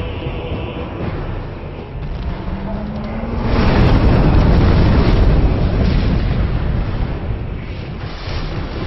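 An enemy in Dark Souls shoots fire with a swelling roaring whoosh that builds and holds for a few seconds, loud and close, over a rumbling game background.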